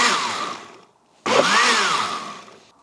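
A blender whirs loudly while mixing homemade Baileys-style cream liqueur, running in two bursts with a short pause between them, the second burst starting abruptly and gradually slowing down.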